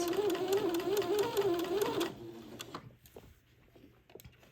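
A sewing machine runs steadily, stitching a small French seam on a day gown, with a close humming whir that stops after about two seconds, leaving faint handling noises.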